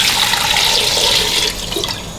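Water poured into a pot of aloo keema with spices while cooking, a steady splashing liquid pour that eases off slightly near the end, close and alone.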